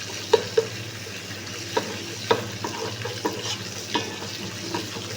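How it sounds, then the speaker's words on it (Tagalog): Garlic sautéing in a pan, a moderate sizzle under repeated spatula taps and scrapes that land roughly every half second to second, near and clear, with nobody talking. "Gisa-gisahin lang natin hanggang sa maging golden brown pa din"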